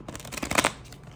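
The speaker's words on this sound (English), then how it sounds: "Okay, this was bad shuffling." A deck of tarot cards being shuffled at close range, a quick riffling burst of soft papery flutters that swells and fades within about a second, with no voices.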